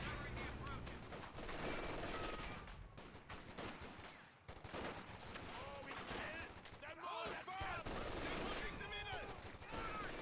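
Rifle fire from a Grenadier infantry squad in the strategy game Company of Heroes 2: continuous crackling gunfire and bursts in a busy battle mix, heard faintly at low volume over other battle sounds and voices.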